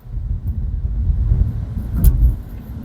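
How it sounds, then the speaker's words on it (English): A 2025 BYD Seal Advanced accelerates hard in Sport mode, a low, steady rumble of motor and road that swells briefly partway through. "So let's just try Sport mode and floor it."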